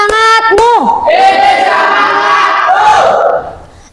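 A class of middle school students shouts a spirited group chant in unison, a loud burst of young voices with rising and falling calls, fading out at the end.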